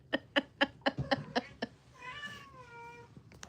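A cat gives a quick run of short, sharp meows, about seven in a row, then a longer drawn-out wavering meow, close and clear without talk.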